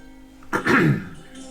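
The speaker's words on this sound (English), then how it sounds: "One of them coughs." A single short cough, fairly close, breaking a quiet background.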